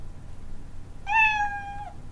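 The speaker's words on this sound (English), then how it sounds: "Play the sound meow until done." Scratch Cat meow sound effect played in the Scratch programming environment, a single clear, tonal meow lasting under a second after quiet background hiss.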